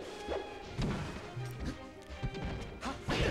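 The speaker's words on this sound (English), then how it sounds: "Just gets forward smashed for it." Super Smash Bros match sounds with a forward smash landing: sharp crashing whacks and thumps scattered over a few seconds, mixed with game effects and a commentator talking.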